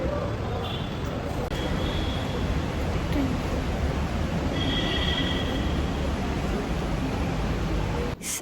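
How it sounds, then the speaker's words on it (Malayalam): A metro train pulls into a station with a loud, steady rumble that fills the whole stretch, faint high wheel squeals drifting above it and a brief clunk at the very end. "അങ്ങനെ നമ്മുടെ മെട്രോ എത്തി."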